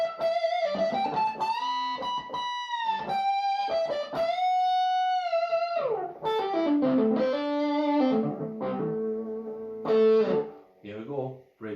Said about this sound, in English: Let's get some more reverb on there.